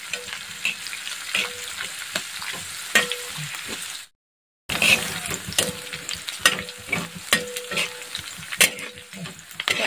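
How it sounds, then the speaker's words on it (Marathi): Long green chillies fry in hot oil with a dense, crackling sizzle and frequent spatula scrapes and taps against the pan. A brief silent gap falls midway, and there is no talk. "ही लोंगी मिरची छान तळून घ्यायची"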